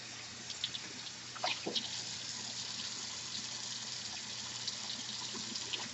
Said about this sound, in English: So I'm going to keep rinsing. This is going to take a few minutes. Be patient. You want your water to run clear.